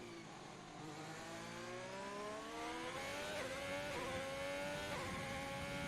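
A Ferrari Formula 1 car engine in the F1 2020 racing game, screaming at high revs through the Brazilian Grand Prix circuit, pitch climbing through gear changes, loud and continuous with no talk.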